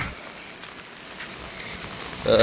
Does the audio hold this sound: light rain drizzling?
yes